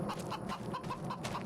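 Chickens clucking in a farming video game, a steady stream of overlapping clucks from several birds, close and fairly loud with no talk.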